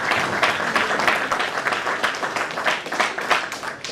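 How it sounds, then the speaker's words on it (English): An audience at a motivational stage show claps together, a dense, continuous patter of many hands sustained at an even, fairly loud level before tapering slightly at the end. "Come on, guys, clap it up."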